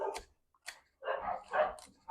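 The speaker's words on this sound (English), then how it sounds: "My dogs are going crazy." Several dogs bark loudly in short, excited bursts at the mail carrier's arrival inside a home, with brief pauses between barks and no one talking over them.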